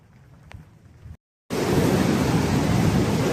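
Strong flood water of the Mahanadi surges at Kathajodi: a faint outdoor hush breaks off briefly, then a loud, close, continuous roar of rushing water fills the rest without letup.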